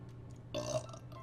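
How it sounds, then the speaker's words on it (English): A single short burp sounds in Final Fantasy IX, a brief loud belch rising over quiet background game audio. "Burp again."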